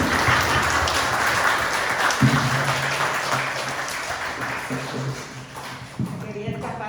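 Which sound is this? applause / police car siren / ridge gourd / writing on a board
applause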